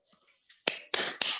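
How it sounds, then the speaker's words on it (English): A few classmates clapping briefly for a student in a physics class, three or four sharp claps close by, the last two in short bursts, with faint murmurs before them. "We can clap for you."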